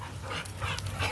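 A dog making brief soft whimpering and panting sounds, quiet and close, over about a second.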